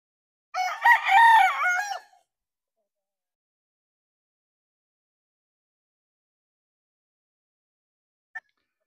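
An 8-month-old five-key Sweater gamefowl rooster crows once, loud and close, a drawn-out call of about one and a half seconds, followed by long silence and a tiny click near the end.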